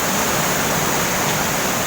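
Fast-flowing water rushes through the Selokan Mataram irrigation canal in Yogyakarta, a steady dense roar with no breaks, loud and close throughout.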